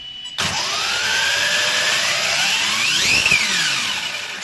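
An ARRMA Talion V3 RC car's electric motor screams up under a throttle pull, a loud rising whine starting abruptly, climbing in pitch and holding near its peak before easing slightly.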